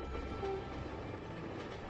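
A train rolls along its rails with a steady, close, broadband rumble that holds evenly for two seconds, with no voices.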